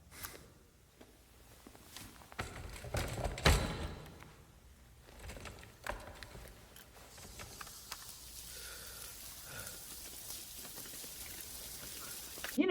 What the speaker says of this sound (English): They paid out the ass to be able to have a freaking rain system put in there.